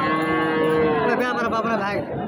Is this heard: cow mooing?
yes